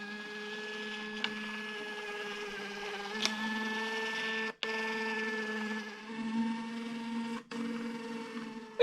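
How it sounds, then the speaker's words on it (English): A Bluetooth label printer steadily prints a run of beer bottle labels for a home-brewed gooseberry bitter, giving a continuous close tonal whir with faint clicks and a few abrupt momentary dropouts. "It goes into a Fermentation Bluetooth printer, and I've basically just got to tell this to print 30 copies off."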